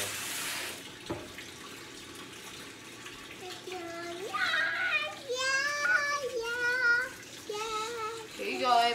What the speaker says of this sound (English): Now let's all wash our hands real quick.